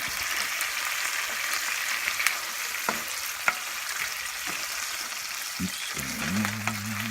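Gnocchi frying in a pan on reduced heat give a steady, fairly quiet sizzle throughout, with scattered sharp pops and crackles breaking out now and then and a low scrape or hum near the end.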